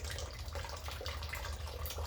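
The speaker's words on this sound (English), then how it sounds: "Water is coming out of right here." Water leaking from a malfunctioning water heater, a faint steady trickle and splatter with a low hum beneath, continuous and close.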